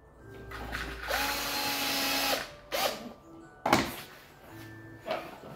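A power drill whirs in a few short bursts as it drives screws, the longest burst early on followed by brief spins and clicks, fairly faint with no talk over it.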